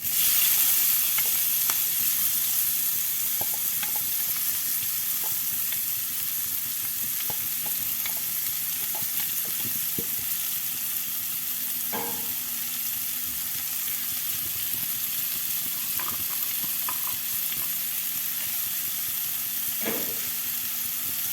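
Chopped ingredients for rajma masala sizzling in hot oil, a steady, moderately loud sizzle and hiss throughout, broken by occasional scrapes and clinks of stirring.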